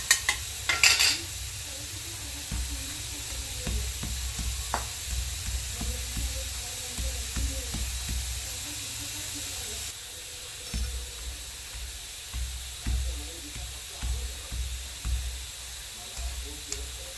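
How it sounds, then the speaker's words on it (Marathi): Peanuts roast in oil for chutney, a steady sizzling hiss with scattered sharp crackles and the intermittent scrape and knock of stirring against the pan, with a loud clatter at the start. "तेल फुटत राहतं"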